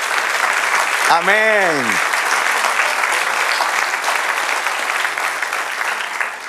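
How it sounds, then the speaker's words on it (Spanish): A church congregation claps together for the Lord during a Spanish-language sermon, steady broad applause lasting several seconds, with a brief voice saying amen near the start. "Denle un aplauso al Señor"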